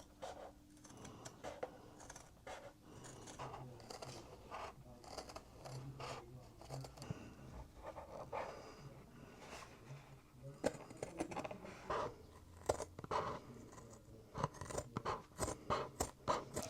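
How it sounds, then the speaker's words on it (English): Scissors snip through leather for a handmade journal, a quiet, close run of irregular crisp cuts and crunches that grow denser and sharper toward the end. "I don't have like a leather cutter, so I've just been using my scissors"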